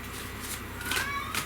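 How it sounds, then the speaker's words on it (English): A cat gives a faint, brief meow in an echoing stairwell, the drawn-out call reverberating over a steady hiss of background noise. "Just sitting right there meowing for no reason whatsoever in the stairwell so that it echoes"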